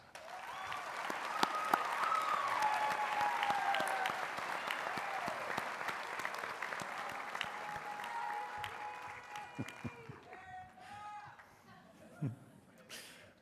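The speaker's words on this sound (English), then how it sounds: "So graduates, please join me in a round of applause for your loved ones." Graduates of a veterinary medicine college applaud their families at a commencement ceremony, a full crowd clapping steadily under some chatter and light laughter before it thins out and fades.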